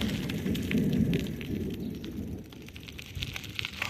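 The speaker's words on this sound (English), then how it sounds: "That was a close lightning bolt." Thunder from a nearby lightning strike during a storm after a tornado, a deep rolling rumble with crackling bursts that swells and fades over a few seconds, heard outdoors without talk.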